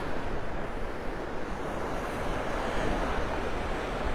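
Steady breezy wind buffets the microphone while surf rolls onto a beach in North Naples, Florida, a constant broadband wash without pauses.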